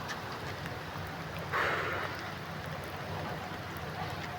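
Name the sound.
heavy rain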